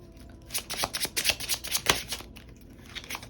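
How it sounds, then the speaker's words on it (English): A tarot deck is shuffled up close, with a flurry of quick, papery riffles and slaps that taper off toward the end. "Gonna shuffle and do it on camera."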